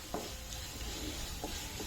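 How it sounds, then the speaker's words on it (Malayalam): Turmeric and chilli powder sauté in a pan with a soft, low sizzle and a few quiet spatula strokes against the metal. "ഇത് നല്ലോണം ഒന്ന് വഴറ്റി ഇതിൻ്റെ പച്ച മണം മാറുന്നത് വരെ ഒന്ന് വഴറ്റിയെടുക്കാം"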